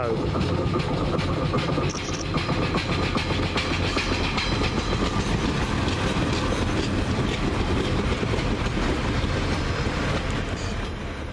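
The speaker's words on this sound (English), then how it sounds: "Just now arriving, the 1616 service from Lincoln Central to Adwick. Got a 142 pacer on this." A Class 142 Pacer train rumbles and clatters steadily as it pulls into a station, with wheels clacking on the rails, loud and close for the whole stretch.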